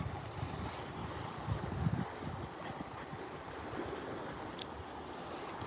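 Wind buffets and rumbles across open water near Tiburon with gusty low noise and faint lapping, no voices present.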